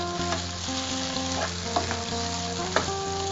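Ingredients tempering in coconut oil for a raw tamarind chutney, a steady loud sizzle and crackle of frying with a few sharp pops and stirring clinks over a constant hum.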